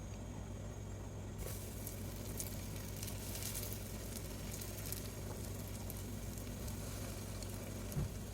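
Hot cooking oil in a pan sizzles and crackles steadily throughout, a dense frying hiss that grows brighter partway in, heard close up with no voices.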